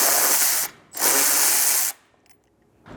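A ratchet backs screws out of the front bumper of a Lexus GX 550. Two loud, close, buzzing bursts are separated by a short pause, followed by faint clicks and a brief third start at the end.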